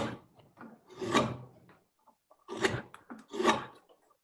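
Drawknife pulled toward the carver through wood while shaping a spoon, a few separate rasping strokes close by, each a loud scraping swell with quiet gaps between.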